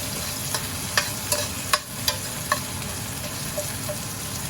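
Bacon and purple Peruvian potatoes fry in a pan, giving a steady close sizzle broken by several sharp pops and spatula taps spaced about half a second apart.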